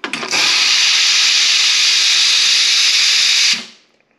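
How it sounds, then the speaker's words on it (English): The steam wand of a SanRemo YOU espresso machine blasts a loud, steady hiss of steam for about three seconds, opening with a brief sputter and cutting off abruptly into a short fading tail. "that is a powerful steam wand"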